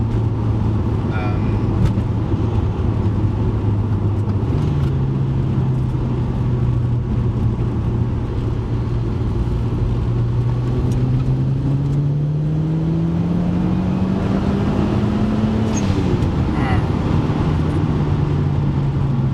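A turbocharged Mitsubishi Evo engine drones steadily under wind and road noise, then the pitch climbs as it accelerates, with brief talk in the background.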